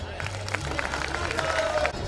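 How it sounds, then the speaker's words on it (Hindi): An audience at a youth festival prize distribution at a Bhopal institute applauds to welcome a guest onto the stage, with a short burst of dense, close clapping mixed with crowd murmur and some cheering. "प्लीज़ तालियों से स्वागत करें सर का"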